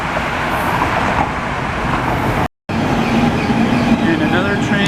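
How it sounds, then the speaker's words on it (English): A Newark City Subway light rail train rolls past a station near Broad Street, a loud, steady rumble and rail roar filling the scene with a brief dropout midway, while a voice talks over it. "So here comes a train"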